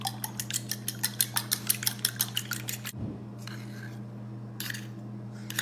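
Eggs and pure vanilla extract being blended for keto chocolate chip peanut butter cookie mix, a quick run of rhythmic metallic clicks against a bowl over a steady hum, then a pause and a couple of brief scraping bursts.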